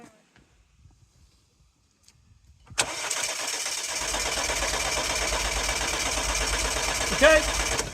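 A car engine cranks during a compression test, first quiet, then a sudden steady mechanical whirring that holds for several seconds, with voices speaking nearby.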